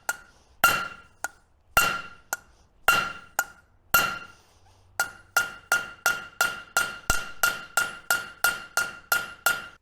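Sharp metallic hammer strikes on rivets backed by a rivet bucking tool while making metal trivets. Irregular spaced blows give way to a fast, even run of ringing hits, close and clear.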